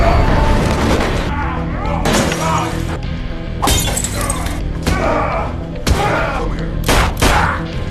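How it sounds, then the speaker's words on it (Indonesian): Gunfire and crashing impacts from a fight scene in an action film about a former special forces soldier seeking revenge: loud, sharp bursts recur every second or so over a dense, steady soundtrack. "William langsung menembak kaki Zack dan terjadi baku hantam yang seru."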